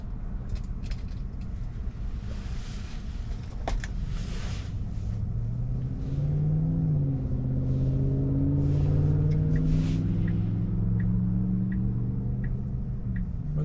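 A car rumbles steadily along as it accelerates onto a highway, engine and road noise swelling midway and continuing under faint ticking, with no talk.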